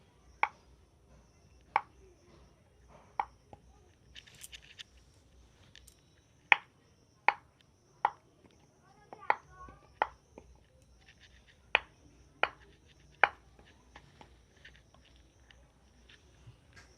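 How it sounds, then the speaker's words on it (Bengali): Sharp, evenly spaced knife taps of a soap base being cut into small pieces for homemade neem and aloe vera soap, with about a dozen crisp chops at a moderate pace, close and fairly quiet. "এবারে ছোট ছোট করে কেটে নেব।"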